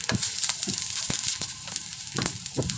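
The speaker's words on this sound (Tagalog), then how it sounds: "Magpapainit tayo ng guys, mantika. Igisa na rin natin guys yung sibuyas." Onion sautéing in hot oil for a Filipino coconut milk stew with chayote, a bright steady sizzle broken by repeated low clacks and scrapes of stirring.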